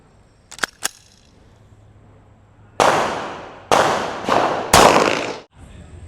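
Several 9mm Armscor full metal jacket rounds fired at cheap Level IIIA body armor: two faint sharp cracks, then four loud close blasts in quick succession, each trailing off briefly.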